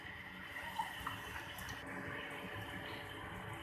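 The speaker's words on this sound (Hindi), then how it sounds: "ये देखें, ये हमने पानी डाल दिया।" Water is poured into a pressure cooker holding chicken and kachnar buds, a faint, steady trickling and splashing that runs continuously for a few seconds with no talking.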